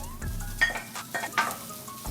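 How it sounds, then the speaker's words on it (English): Kimchi fried rice with cabbage sizzles in olive oil in a pan, a steady close frying hiss broken by a few stirring scrapes and utensil clinks. "Like you hear it frying, I added some olive oil in it."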